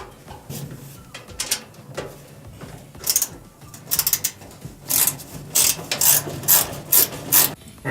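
Screw being backed out of a Frigidaire dryer heating element, close-up ratcheting clicks in repeated quick bursts that grow louder and denser toward the end, with no talking.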